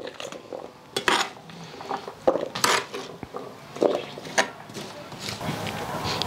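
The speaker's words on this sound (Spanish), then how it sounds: "lo voy a ir poniendo y revolviendo acá en la cubeta" Salad being stirred and mixed with lime in a bucket, giving clattering, scraping knocks of utensils against the container in irregular bursts, with a voice speaking in the background.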